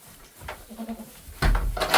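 Goats bleating inside a barn during evening chores and milking, with a short low call early and a louder burst of bleats near the end, mixed with rustling and clatter nearby.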